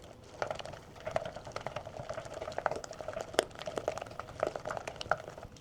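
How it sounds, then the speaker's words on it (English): A wooden spoon stirs a thick butter, sugar and honey mixture in a bowl, giving soft, irregular scraping ticks and sticky clicks that repeat quietly and close up without any voices. "Now that my mixture's not so clumpy as I'm stirring it with my wooden spoon"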